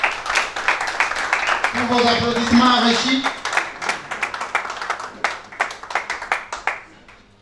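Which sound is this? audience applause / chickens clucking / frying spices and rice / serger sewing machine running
audience applause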